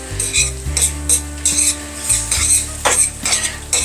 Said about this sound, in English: Let me give this a nice stir around.